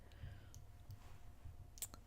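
A computer mouse click while saving in interactive video editing software: a few faint, short ticks in a quiet room, with one slightly sharper click near the end.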